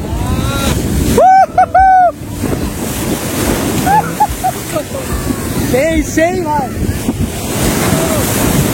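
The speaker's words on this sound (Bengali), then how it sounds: "বড় বড় ঢেউ আসছে" Large sea waves breaking on the beach at Puri, a loud, close roar of surf mixed with strong wind buffeting the microphone, while voices talk and call out over it.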